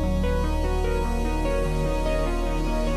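A space ambient synth mix built in Ableton Live 11 from Omnisphere sounds, layering a cobblestones lead, bass, pad and texture into a dense, sustained wash with a steady pulsing low end and shifting tonal notes.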